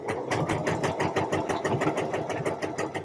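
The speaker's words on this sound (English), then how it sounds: "Must not sew past orange pin." Sewing machine stitching a Deer and Doe Lupin jacket: steady, rapid mechanical rhythm of needle strokes, close and continuous, with no talking.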